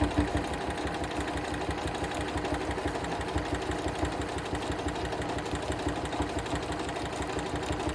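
A sewing machine top-stitching curves on a quilt with a walking foot runs continuously, giving a steady rapid mechanical whir and fast needle patter that stays even throughout, close by with no talking.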